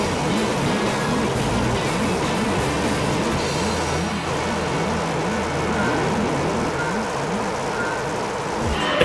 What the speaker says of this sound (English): It kind of really does sound like a Hoover